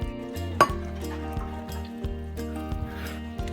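Sauce of homemade runny sour cream and rabbit broth being stirred in a pan, with soft clinks and scrapes of a utensil against the pan over a steady tonal background hum.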